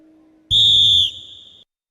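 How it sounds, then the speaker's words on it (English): A referee's whistle is blown to start a robot match at a national Robocon competition, giving one sharp, loud, high blast of about a second that fades into a quieter tail, with a faint hum before it. "And with that, the whistle goes off"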